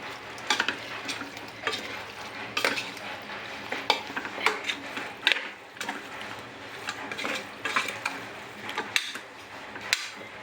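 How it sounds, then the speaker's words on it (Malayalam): A spatula scrapes and taps repeatedly against a pan as chicken for chicken mappas is stirred, with a steady sizzle of frying underneath, close and moderately loud. "ഈ ചിക്കൻ നന്നായിട്ട് ഇളക്കിയെടുക്കട്ടെ."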